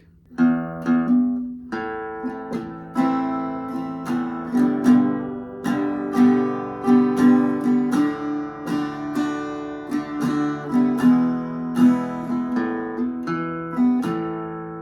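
Acoustic guitar plays a slow descending chord walk-down, each chord plucked and ringing, bass notes stepping down in a gentle repeating pattern.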